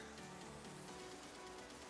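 Rain falls in the video game Empyrion Galactic Survival, a faint, even, steady patter and hiss that stays constant throughout with no voices.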